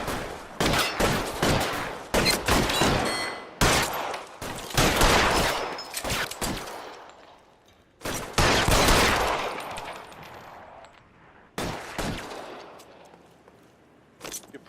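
Gunfire in a shootout in the L.A. Noire video game, bursts of shots clustered in rapid volleys with short pauses between, loud and close, continuing through most of the stretch without speech.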